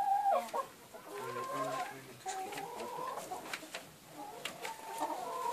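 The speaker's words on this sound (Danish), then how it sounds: "Det er meget, meget aggressive høns." Hens cluck and squawk inside a hen house, close and busy with overlapping calls, while people talk quietly in the background.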